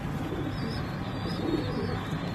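Pigeons coo softly inside a loft, low murmuring calls layered over a steady hissing background, with no voices.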